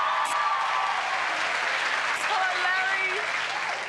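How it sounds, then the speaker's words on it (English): Studio audience applause fills the clip with dense, steady clapping and cheering close by, while a voice speaks over it partway through. "Give her a round of applause, Deb."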